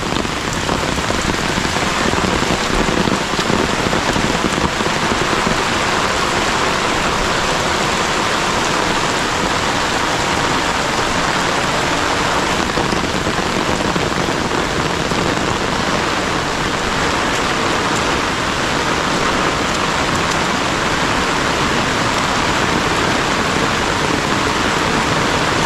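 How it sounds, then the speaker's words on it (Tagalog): Heavy rain falling in the mountains without strong wind, a dense steady hiss of drops on surfaces that stays loud and unbroken throughout. "Buti ngayon, kahit may ulan, walang hangin na malakas."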